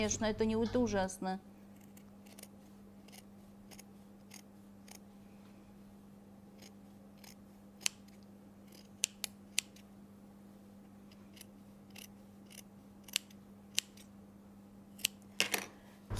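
Scissors snip cashmere fabric along a jacket seam in a sewing room, a sparse series of sharp little clicks over a faint steady hum after a brief moment of voice at the start.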